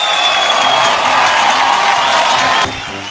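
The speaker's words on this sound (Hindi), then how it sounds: "एक बार हमारे जीके साहब के लिए जोरदार तालियां हो जाए" At an award show, a large audience applauds and cheers loudly with whoops mixed into dense, sustained clapping that drops off abruptly near the end.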